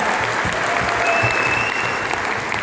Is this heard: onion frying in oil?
no